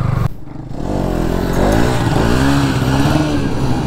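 Bajaj Pulsar motorcycle engine revved hard for a wheelie on a bike fitted with a customised sprocket, rising and falling throttle sweeps climbing in pitch, loud and close, with no talk.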